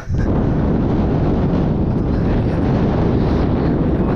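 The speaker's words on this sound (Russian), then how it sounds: "Ветер потише." Strong coastal wind in Crimea buffeting the microphone in a continuous low roar, loud and unbroken for the whole stretch, with no speech.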